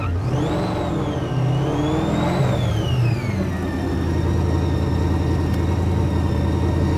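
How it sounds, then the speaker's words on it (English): A Formula Drift Nissan 350Z with a supercharged LS3 V8 is revved hard, its engine rising and falling in loud sweeping pulls before settling into a rough, thumping idle, heard up close. "Formula Drift, Nissan 350Z, blown LS3"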